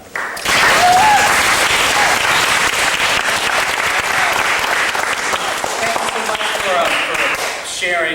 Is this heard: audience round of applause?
yes